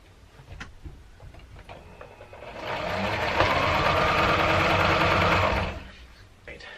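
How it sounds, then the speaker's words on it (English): Sewing machine stitching the waistband casing of a swim skirt, a close steady whirring run of about three seconds rising out of quiet room sound and stopping abruptly. "I'm going to sew around it and leave a space so that I can thread my elastic through."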